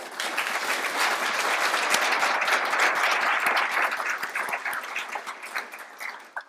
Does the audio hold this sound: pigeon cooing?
no